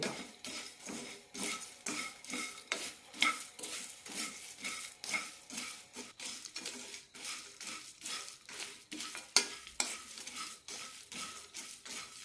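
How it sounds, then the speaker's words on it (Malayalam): Whole spices such as fennel dry-roasting in a pan over medium flame, a brisk repeated rattle and scrape of seeds being stirred, close and rhythmic, with occasional metallic clinks and no talking. "ഇതെല്ലാം നന്നായി ഒന്ന് ചൂടാക്കി എടുക്കാം മീഡിയം ഫ്ലെയിമിലിട്ട് വേണം ചൂടാക്കിയെടുക്കാൻ"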